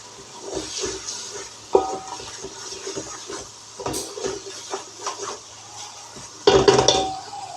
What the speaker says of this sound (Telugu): ఇది కొంచెం పచ్చివాసన పోయే వరకు ఫ్రై అవనివ్వాలన్నమాట అల్లం వెల్లుల్లి పేస్ట్